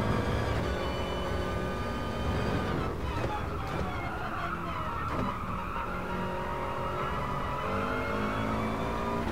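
Racing car engine in the Gran Turismo Sport video game, a continuous loud revving drone with pitch rising and falling through gear changes, with brief tire skid noise.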